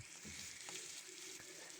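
Eggplant slices fry in a pan with a soft, steady sizzle and a few faint knocks, quiet and distant with no voices.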